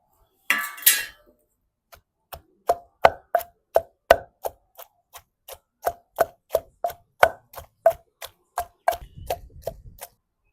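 Okra pounded in a stone mortar for a village-style Telugu roti chutney: after a brief rustle, about twenty sharp, evenly spaced knocks of stone on stone repeat in a steady rhythm, close and clear, with no talking.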